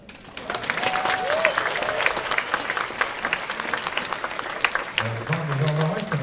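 Sustained applause from a crowd at a graduation ceremony, steady clapping throughout with a faint voice and a low hum near the end.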